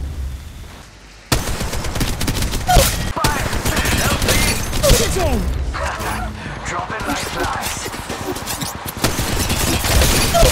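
Dense, continuous gunfire from the mobile game Apex Legends Mobile: rapid automatic bursts and overlapping shots keep going loud and close, with brief game voice callouts heard underneath.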